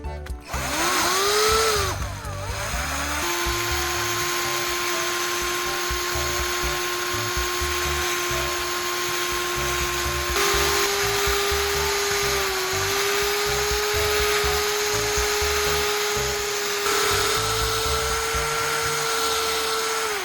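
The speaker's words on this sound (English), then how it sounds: "Instead of mixing by hand, I'll use a drill mixer." A power drill mixer whirs steadily and loudly for a long stretch, its pitch dipping slightly as it churns through a thick cement and charcoal paste.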